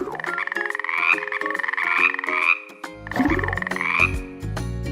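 Loud, rhythmic frog croaking with repeated throaty calls, joined partway through by deeper, lower croaks, nearby and continuous.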